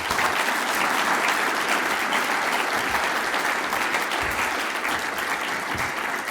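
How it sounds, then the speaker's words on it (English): A large audience applauds an inductee, Gordon Vadakin, at the 2022 Kansas Sports Hall of Fame induction ceremony. The clapping is loud, dense and steady, and it holds evenly for the whole stretch. "One more round of applause for GORDON VADAKIN."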